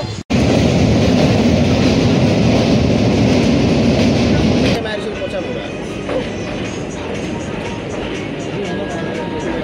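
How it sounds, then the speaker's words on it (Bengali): Loud, steady rumble of a departing train, then a sudden drop to a quieter rolling rattle as it moves along. "তো গাইস ফাইনালি ট্রেন ছেড়ে দিল"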